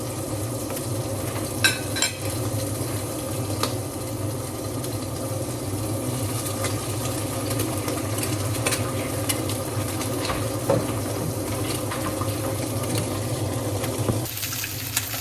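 Bacon frying in a pan for breakfast, a steady dense sizzle with a low background hum and occasional faint clinks, continuing without pause until a slight change near the end.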